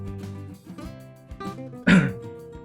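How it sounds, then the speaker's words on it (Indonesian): A single short, sharp cough rings out near the end after a stretch of quiet background sound. "sorry batuk"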